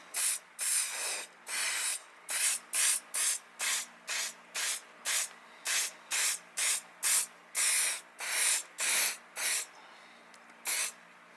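An aerosol can of hairspray spritzed over a model, about twenty short hissing bursts in a quick, uneven rhythm, each a second or less, close and crisp with brief silent gaps between.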